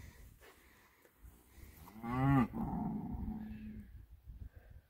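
A cow lets out one loud, close moo with a rising, strained tone midway through, amid low rustling and outdoor noise at a goat pen with an electric wire fence.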